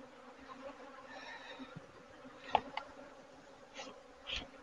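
Honeybees hum in a low, steady drone close by during a hive inspection, with a few sharper buzzes and knocks rising briefly above it.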